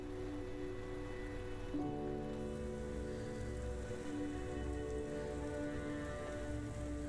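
Rain falls in the video game Silent Hill 2, a soft, steady hiss of drops on surfaces under a low sustained musical drone, continuous and fairly quiet, with no talking.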